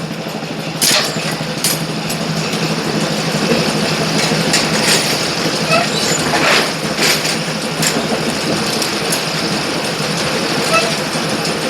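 A Brunswick A2 bowling pinsetter's pit conveyor runs with a steady, loud mechanical rumble and whir, with a few brief knocks and clatters rising over the continuous machine drone.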